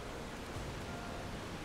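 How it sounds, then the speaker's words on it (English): Steady broadband rain hiss at night in the video game Final Fantasy XIV, a soft, even wash with no talk, holding at a constant low level throughout. "Unfortunately, it's raining, and it's also night."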